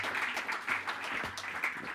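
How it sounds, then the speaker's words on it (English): A conference audience gives a speaker called to the stage a round of applause: a short stretch of moderately distant, continuous crowd clapping. "Big round of applause."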